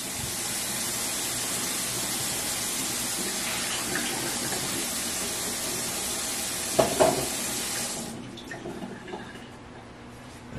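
Water pours into a crockpot holding pork for pulled pork, a steady rushing splash lasting about eight seconds before it stops, followed by a few faint clinks and handling noises.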